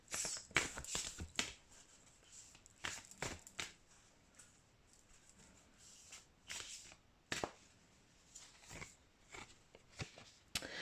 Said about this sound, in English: Let's shuffle some mermaid cards to see.